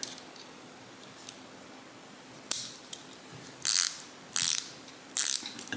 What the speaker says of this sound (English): The ratchet's nice and smooth.